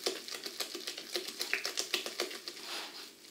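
Savoury cake batter with two kinds of peppers and anchovies is stirred in a bowl, the spoon making quick, light rhythmic taps and scrapes close by.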